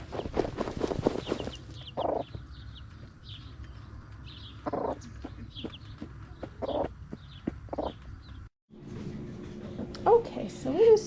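A mother hen clucks in short, scattered bursts while scratching in the dirt with her chicks nearby, the calls close and moderately loud, with people talking over parts of it.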